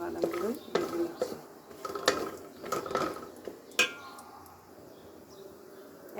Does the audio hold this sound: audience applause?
no